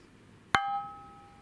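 A small gong struck once, a sharp metallic hit that leaves a clear ringing tone decaying over about a second, close and alone in a quiet room.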